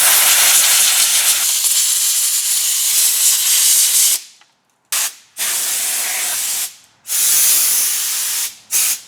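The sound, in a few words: air blower blowing off a junkyard Supra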